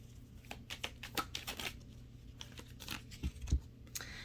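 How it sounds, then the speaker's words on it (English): Tarot cards being shuffled by hand, giving soft irregular riffling and rustling bursts with a few dull taps, close and fairly quiet. "One more shuffle."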